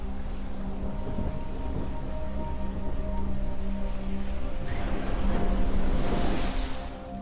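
Steady rain falls on a surface, a continuous patter under a low hum that swells louder toward the end of the scene, with no talking.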